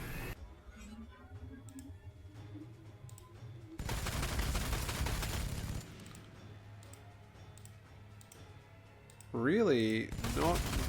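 Bursts of gunfire in a Warhammer 40,000: Sanctus Reach battle, loud stretches of rattling shots between quieter background, with a voice talking and a rising warbling tone near the end.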